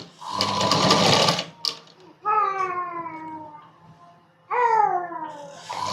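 Sewing machine joining the cut pieces of a kids' night dress, a loud close burst of stitching at the start, followed by gaps with other sounds, including a high wavering voice.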